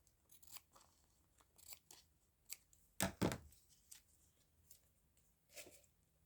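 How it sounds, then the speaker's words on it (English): Scissors trimming excess plastic from a craft page pocket, a few close, sparse snips with one louder double cut midway, set against quiet room noise with no talking. "Trimming off the excess."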